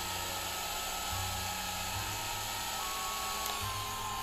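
A Bosch rotary hammer made in Germany running steadily at speed level 2, giving a continuous whining motor hum with slight pitch shifts, close and alone, with no talking.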